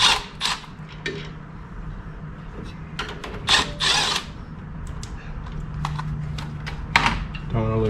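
Power tool cutting off the steering box and engine mounts on a GU Patrol, with bursts of grinding and cutting noise, pauses between passes, and someone talking nearby.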